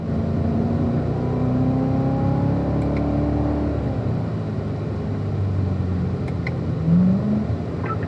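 A Corvette is driven through quick left-right steering at a driving school, held in fourth gear; its engine gives a loud, close, steady hum whose pitch rises and falls as it moves.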